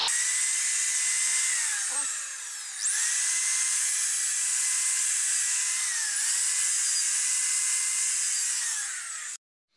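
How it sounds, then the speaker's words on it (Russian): A high-pitched, steady whine of a drill at maximum speed with a wire brush cleaning a FOTON 1043 cylinder head, scratchy brushing texture, continuous for several seconds before cutting off abruptly. "Вставляю дрель, выставляю оборотики на максимум и чищу."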